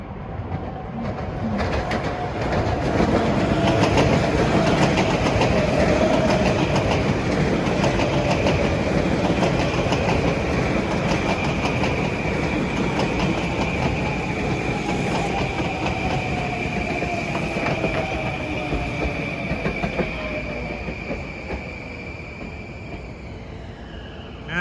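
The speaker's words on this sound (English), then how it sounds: "train 1555. Huntington to Penn Station with M9s." A Long Island Rail Road M9 commuter train on the Main Line, bound from Huntington to Penn Station, rumbles past at length, loud and close, with rhythmic wheel clatter and a sustained whine fading slowly as it moves on.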